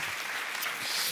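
A short burst of steady applause from a church audience, dense and even throughout with no voices standing out.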